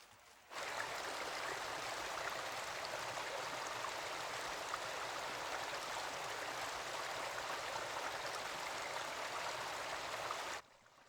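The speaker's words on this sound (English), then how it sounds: "the water creeps quietly inland, filling hundreds of dry waterways" Flowing water runs into dry, sandy creek beds in Australia in a steady, soft rushing stream, constant throughout with no other sounds.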